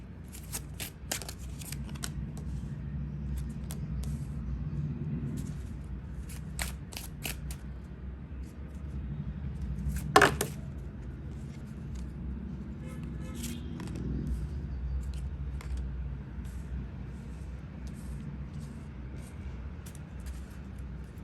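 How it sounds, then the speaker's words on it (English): Tarot cards are shuffled in repeated riffling bursts with soft flicks and taps, close up, against a low steady hum. "let me just shuffle first."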